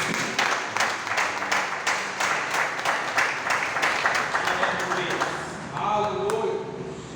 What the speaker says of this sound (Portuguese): E dê um louvor de palmas para Jesus.